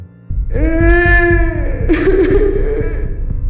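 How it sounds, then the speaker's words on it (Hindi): A woman's high, wavering wail rises and trembles, loud and close, sliding down into sobbing moans with a low rumble underneath. "हमने किसी की रोने की आवाज सुनी"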